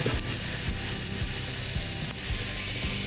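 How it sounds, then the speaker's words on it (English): Meat searing on a hot grill, a dense continuous sizzle heard up close and fairly loud, with faint scraping movements beneath and no voices. "It'll start to sizzle over here."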